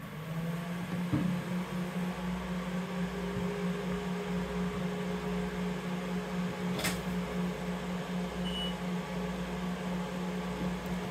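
A Gravograph LS800 laser engraving machine runs after power-up with a steady electrical hum and fan noise, a faint tonal whine held throughout and one brief sharp click partway through.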